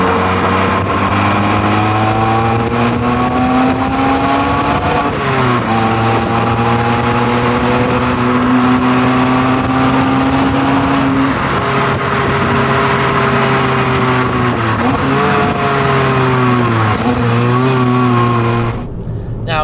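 Suzuki Swift Sport engine revving high toward about 7,000 rpm, a loud, steady, close in-cabin drone that climbs in pitch through several gear pulls, dipping briefly at each shift.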